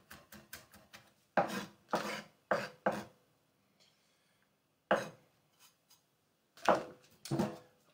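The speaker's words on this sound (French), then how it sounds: "On a coupé notre ail" Garlic being finely chopped with a knife on a board for a homemade moussaka, bursts of sharp close knocks in quick clusters separated by short pauses, with no talking.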